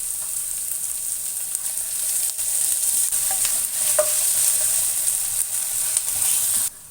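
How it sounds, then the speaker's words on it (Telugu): Onions frying in oil as a ground ginger, garlic and cumin paste goes in, a bright continuous sizzle with a few soft stirring knocks, then cutting off abruptly near the end. "ఉల్లిపాయలు వేగుతున్నాయి కదా ఇందులోనే అల్లం వెల్లుల్లి జీలకర్ర కలిపి గ్రైండ్ చేసిన పేస్ట్ని వేసుకుంటున్నాను"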